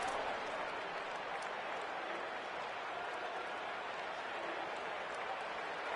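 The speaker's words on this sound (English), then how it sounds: "if you didn't know this was a big play, the crowd is telling you" A college football stadium crowd roars steadily after a big third-down play in an NDSU versus Delaware game, a dense, sustained wall of cheering and applause that holds at full level for the whole stretch.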